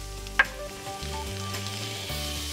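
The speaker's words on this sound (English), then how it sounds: "So I'm gonna let this just saute together until it becomes a little bit golden brown." Garlic and corn sautéing in a hot pan, a steady soft sizzle with a short clink near the start, no talking.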